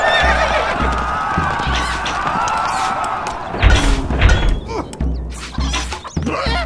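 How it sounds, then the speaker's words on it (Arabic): Horse neighing in the video game Stronghold Crusader, a whinny among hoof clip-clops and game sound effects, fairly loud and close. "الحصان سريع."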